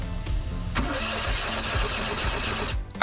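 An Onan Marquis Platinum 5500 fuel-injected RV generator cranking without catching, with a rhythmic starter churn, a sharp onset and a steady mechanical whir for about two seconds before stopping, fairly quiet overall.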